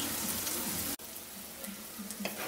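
Chopped onion with a pinch of salt frying in a pan, a steady close sizzle with a brief cut near the start and faint stirring clicks.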